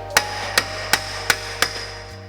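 A hammer taps on a BMW E46 front axle during an all-wheel-drive driveline service, striking five sharp, evenly spaced metallic blows close by, moderately loud with no talking.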